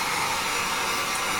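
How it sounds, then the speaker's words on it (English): A heat gun blows continuously over epoxy resin on tile coasters, a steady close airy hiss with no pauses. "I will spin in circular motions here with the heat gun"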